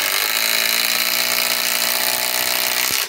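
A Skil Power Core 20 cordless power tool runs at its third speed setting, giving a loud, steady, high-pitched motor whine that holds constant for about three seconds before winding down.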